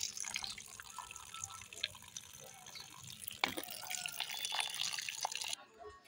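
Food being rinsed repeatedly in water at a kitchen sink, with running and splashing water, small clinks and a sharper knock midway, fairly steady and close throughout.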